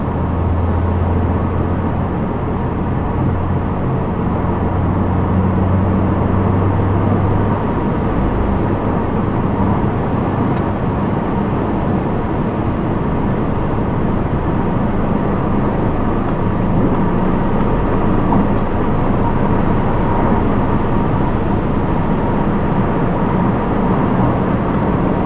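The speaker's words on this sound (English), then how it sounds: "You can hear just a little bit of the exhaust. A little bit of that boxer rumble, a little bit of a tease." A 2022 Subaru WRX's boxer engine gives a steady, low exhaust rumble at highway speed, broadband road and wind noise constant throughout with no speech.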